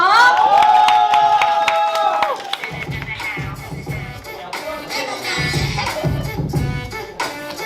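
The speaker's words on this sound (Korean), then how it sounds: "박수 주세요" A crowd at a school talent show cheers and claps as a band is welcomed to the stage, with excited shouts and clapping rising over an opening sustained musical tone that gives way to lively crowd noise.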